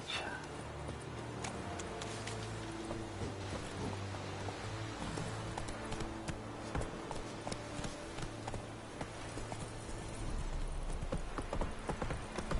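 The horse Roach gallops steadily in The Witcher 3, rhythmic hoofbeats clopping continuously in the foreground over quiet game ambience, with a brief shout at one point.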